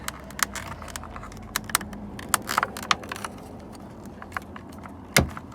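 Plastic clips on a GMC side mirror glass snap into place in a series of sharp, close clicks and knocks, ending in a louder pop near the end.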